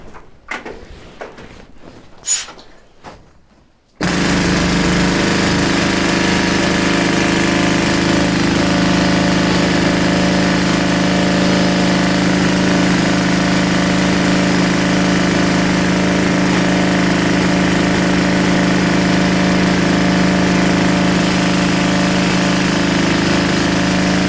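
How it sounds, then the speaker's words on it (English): After a few quiet seconds of faint knocks, a loud rock drill starts up in a gold mine and runs continuously, a harsh, steady roar filling the space. "You would be using that drill for a good 2 hours a shift"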